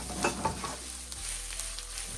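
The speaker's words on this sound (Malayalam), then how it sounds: "എന്നിട്ട് ഇത് നല്ലപോലെ ഇളക്കി ആ പച്ചമണം വാറുന്ന വരെ നല്ലപോലെ ഇളക്കാം." Beef masala sizzles and fries in a pan for botty curry, with a few quick scraping stirs over a faint, steady crackle.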